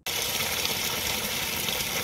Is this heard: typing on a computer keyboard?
no